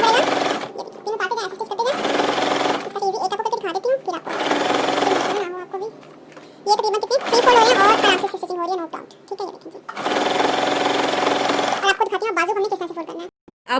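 A home sewing machine stitches along a rolled high-neck seam in several steady bursts of a few seconds each, alternating with someone talking between the runs.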